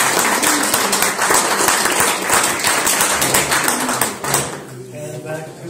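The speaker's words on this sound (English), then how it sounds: "another round of applause" Audience applause at a climate action community coffee meeting, dense steady clapping from a crowd for about four seconds before tapering off as the room quiets.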